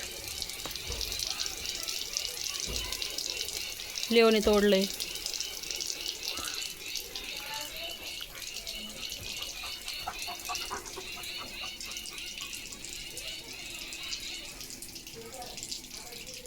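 Water from a broken tap sprays like a shower and gives a steady wet hiss throughout. Someone speaks briefly over it, and a short louder burst of voice comes near the start.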